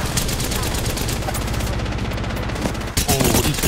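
A shooter video game produces rapid, dense bursts of automatic gunfire that run almost continuously, then break off briefly and return just as loud.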